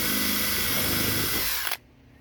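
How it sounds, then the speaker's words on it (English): DeWalt 12 volt brushless drill boring holes, a close, loud, steady motor whine and grinding that cuts off sharply near the end, leaving quiet room noise. "I'm using this DeWalt 12 volt brushless. This thing is a workhorse."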